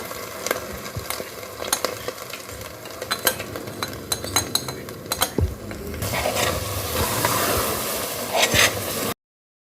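A spoon stirs semolina halwa with sugar and ghee in a pan, repeated metallic clinks and scrapes against the pan over a soft sizzle that grows louder and denser near the end, up close with no talking.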